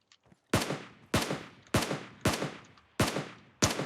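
Six loud, sharp rifle shots from a SCAR assault rifle in PUBG Mobile, spaced about half a second apart, each cracking hard and then decaying with a short tail. A few faint ticks come before the first shot.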